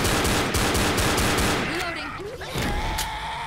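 Rapid gunfire from the video game Left 4 Dead, dense bursts of automatic shots close up, with a player's voice talking over the shooting near the end.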